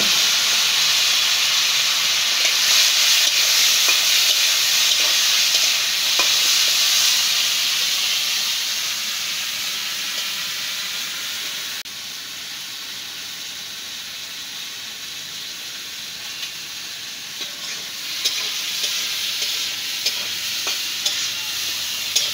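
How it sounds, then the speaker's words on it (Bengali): Prawns sizzle and hiss in hot mustard oil in a wok, a loud steady fry that eases slightly halfway through and carries on without talk. "এখন আমি এই যে চিংড়ি মাছ এখন ভাজে নিব"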